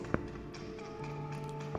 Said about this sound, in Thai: นาทีนั้นผมเริ่มได้ยินเสียงเคาะดังออกมาจากผนังห้อง